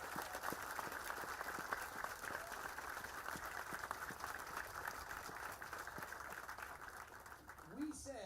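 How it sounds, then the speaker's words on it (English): A crowd applauding at an outdoor Buc-ee's groundbreaking in Ruston, sustained distant clapping as a steady even wash, fairly faint, lasting throughout. "I would love us to give an unbelievable round of applause and a big thank you to the Buc-ee's family"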